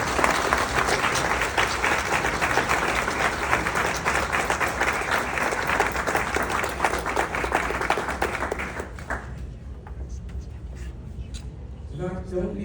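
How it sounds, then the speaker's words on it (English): An audience applauds loudly and steadily for an honoree at the 2024 Welcoming Ottawa Ambassador recognition, the clapping dense and sustained for about nine seconds before dropping off into a quieter room murmur. "Please give a very, very hearty round of applause."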